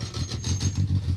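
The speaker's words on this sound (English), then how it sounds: "That sounds a bit rattly. Yeah, gearbox, it's all good." Rally car on an asphalt stage of the Rali Ceredigion National rally, its gearbox giving a loose, rhythmic rattle over a low idling engine drone, close and steady throughout with no voices.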